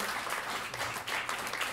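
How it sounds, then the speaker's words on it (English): An audience applauds steadily at a gathering honouring an author and poet, dense clapping sustained at an even level with no voices over it. "everybody, give her another round of applause"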